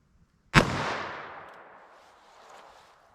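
A single sharp, close gunshot from a 3-inch .22 WMR revolver firing Hornady Critical Defense ammunition, with an abrupt crack and a long fading echo tail trailing off over two seconds.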